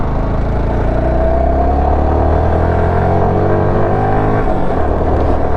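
Steady engine drone from a Yamaha R15 V3 motorcycle climbing a hill in second gear, loud and close, holding a sustained pitch that shifts slightly near the end, with no talk.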